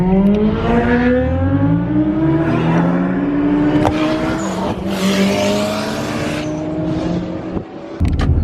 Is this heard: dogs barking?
no